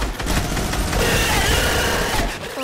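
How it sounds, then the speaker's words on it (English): A minigun in the video game Fortnite fires a rapid, continuous burst of gunfire, loud and dense, sustained for a few seconds before tapering off. "We should be able to laser him with our minigun."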